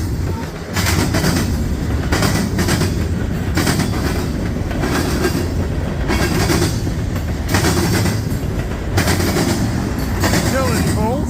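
An eastbound train rolls across a railroad diamond, its wheels beating out a loud, continuous rumble with repeated clattering bursts as the cars pass the crossing, close by and without speech.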